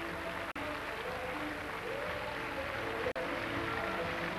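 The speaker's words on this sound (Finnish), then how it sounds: "Ja yleisö osoittaa äänekkäästi suosiotaan tälle pelaalle." A stadium crowd at a 1991 American football game in Helsinki, Holland versus Great Britain, applauds a player with steady, loud, dense clapping and cheering that fills the whole stretch.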